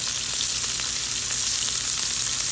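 Diver scallops sear in oil in a hot pan, a loud, steady, close sizzle with a few faint crackles and no talking.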